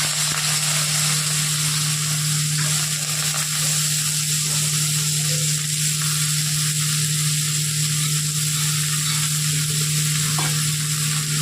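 Carrots and black cumin frying in hot mustard oil while being stirred, a steady close sizzle with occasional scraping, continuous throughout against a constant hum.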